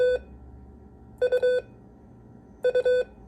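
Morse code practice tones for the letter U: three bursts of steady beeping, each a pattern of two short tones and one longer tone, clear and close over quiet background hiss.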